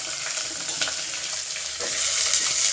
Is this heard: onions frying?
yes